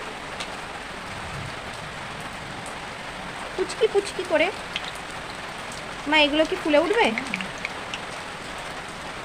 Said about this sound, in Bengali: আর বাইরে পড়ছে অঝরে বৃষ্টি